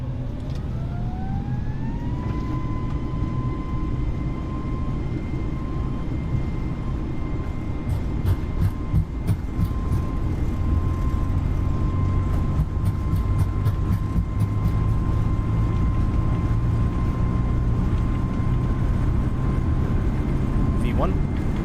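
Airbus A320 jet engines hold takeoff thrust on the runway in Microsoft Flight Simulator: a loud, steady roar with a tonal whine that climbs in pitch over the first seconds, then stays level, with light rattling clicks over it.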